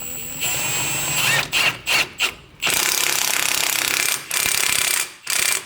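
Rapid bursts of a power tool, likely an impact wrench, tightening the axle nut on a Mazda FC RX7, a long buzzing run followed by several short stuttering pulses with brief gaps, close and loud.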